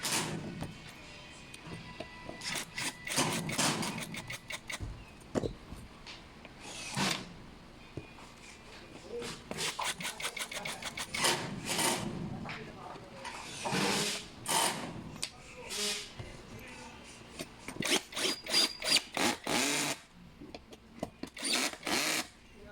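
A bolt is tightened during assembly of a black mesh office chair: quick bursts of clicking ratchet turns repeat in clusters with short pauses, close and fairly quiet, amid light handling noises.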